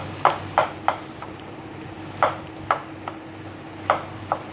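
Spatula strokes stirring and sautéing a Bengali fish and egg curry in a pan, sharp scraping taps coming in short clusters of two or three over a steady low hum of frying.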